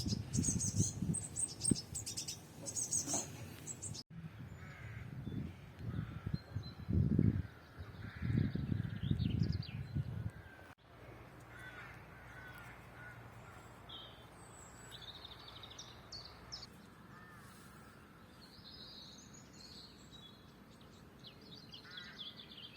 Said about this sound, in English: really just made me feel awe of nature with the bird song and these signs of spring life